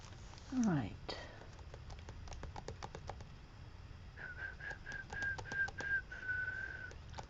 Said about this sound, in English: Whistling to myself.